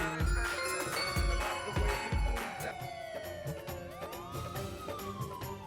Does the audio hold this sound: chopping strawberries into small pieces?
no